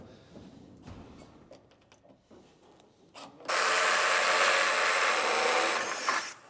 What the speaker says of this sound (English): And drill it through the side of that stud.